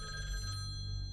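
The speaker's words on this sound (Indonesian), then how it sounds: "Tiba-tiba telepon di dalam kamar hotel berbunyi." A hotel room telephone in a film rings with a steady electronic trill, its bright ring tone sustained briefly over a low, rumbling background.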